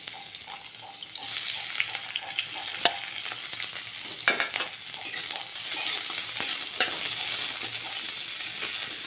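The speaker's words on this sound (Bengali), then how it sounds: "কড়াইয়ের মধ্যে তেল দিয়ে দিচ্ছি। এবারে পেঁয়াজগুলো আমি ভেজে নেব।" Sliced onions fry in hot oil in a wok, giving a steady, close hiss and crackle that swells after the first second and carries on with occasional sharper pops and scraping stirs.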